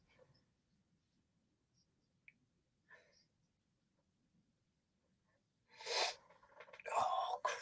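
A single sneeze bursts out near the end, loud and close, after a quiet stretch of faint breathy sounds, during a live watchalong of a Manchester United versus Fulham FA Cup match.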